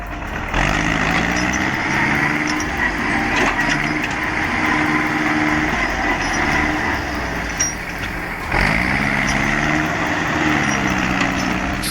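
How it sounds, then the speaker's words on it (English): A Steyr 8000-series tractor rated at 180 horsepower works at full load hauling logs through deep snow, its engine droning steadily and loudly with wavering harmonic tones and occasional knocks and creaks. "that tractor hauling logs through deep snow looked like it was fighting for every inch of ground"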